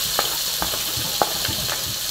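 Onion and ginger frying for pork adobo with a constant bright sizzle, broken by several soft scrapes of a spoon stirring in the pan, close and steady.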